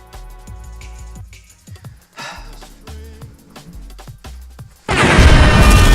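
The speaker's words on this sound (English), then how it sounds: "This question is an excuse to use explosions and air horns." Explosion sound effects: scattered low booms and thuds over a few seconds, then a loud, sustained roaring blast that fills the final second.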